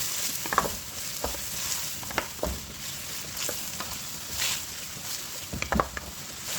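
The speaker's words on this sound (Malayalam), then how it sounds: "ചിക്കൻ ഇട്ട് നമുക്ക് ഇളക്കി കൊടുക്കാം" Chicken pieces fry in a pan for noodles while being stirred, a low sizzle with irregular scraping and clinking strokes of the utensil, moderately close and without talk.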